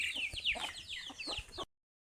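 Desi chickens cluck in short, busy bursts, with a rooster-like call mixed in, fairly close, ending abruptly in silence.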